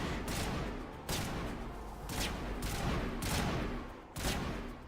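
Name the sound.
gunfire in video game Mass Effect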